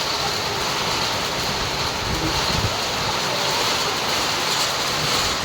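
Heavy rain driven by strong wind in a thunderstorm makes a dense, constant roaring hiss, loud and unbroken from start to finish.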